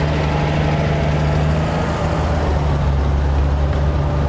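A running Oliver tractor engine at a farm, a steady low rumble with a constant hum, loud and close, holding an even idle with no speech.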